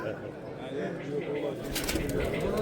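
Pigeons kept for sale cooing softly at close range, a low throaty burble that runs through the clip while someone talks over it.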